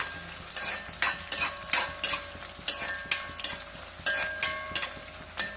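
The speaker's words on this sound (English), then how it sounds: "let me fry for some time until it gets brown" Onions fry in a pan for Bengali kosha mangsho mutton curry, a steady sizzle broken by regular scraping stirs roughly every half second to second.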